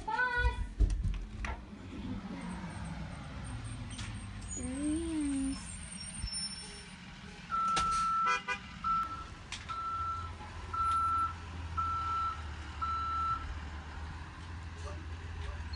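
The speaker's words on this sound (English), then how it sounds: "There's the bus." A bus arrives with engine rumble and hiss, then sounds evenly spaced reversing beeps, six or so in a steady rhythm; people talk over it outdoors.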